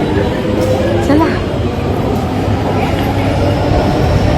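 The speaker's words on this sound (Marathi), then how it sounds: "गाईज आता मेट्रो पण आलेली आहे आमची. आम्ही सगळे चढतोय." A metro train pulls into a busy station, its steady low rumble and rail noise filling the space while people talk over it throughout.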